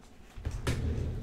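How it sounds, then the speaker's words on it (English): A door is pushed shut in a room during a call, giving a soft thud followed by a dull, muffled bump, close and brief with no talking. "let me just close my door here 1 sec."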